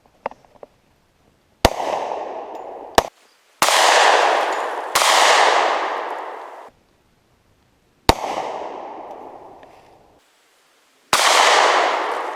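Several loud gunshots at a concrete block in an outdoor ballistic test, with calibers from 9mm and 10mm up to .454, 12 gauge, 5.56mm and .50 cal; five or six sharp blasts spaced a second or two apart, each with a long ringing decay.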